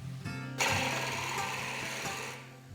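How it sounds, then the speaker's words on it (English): A wood lathe spins while a gouge cuts out a jam chuck for a ring blank, giving a steady close hum. A harsh scraping hiss starts abruptly and runs on before fading. "Here I'm gouging out the jam chuck to put the ring blank onto."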